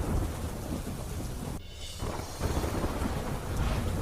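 Heavy monsoon rain pours over villages in Tapi district, Gujarat, a dense steady roar of rainfall with a deeper rumbling undertone, briefly dipping in the middle before resuming loud and continuous.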